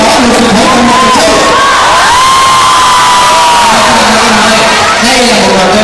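A stage audience at a water-balloon battle game event roars with loud, sustained cheering, whoops and shouts from many voices blending into one continuous, very close and overwhelming crowd noise.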